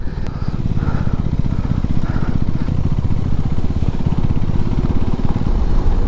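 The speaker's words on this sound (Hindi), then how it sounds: "पिछले 2 किलोमीटर से ऐसे ही रास्ते में गाड़ी चला रहा हूँ, बाइक पूरा इधर उधर भाग रहा है" A motorcycle engine drones steadily and close as the bike is ridden over a rough, broken mountain road in Ladakh, with constant rumble and slight bumps and no talking.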